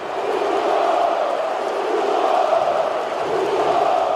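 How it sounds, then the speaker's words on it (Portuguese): A packed stadium crowd of Flamengo supporters roars and chants together in the Maracanã stands, a dense, continuous wall of voices that stays loud and steady throughout. "Um grito diferente ecoou nas arquibancadas do Maracanã."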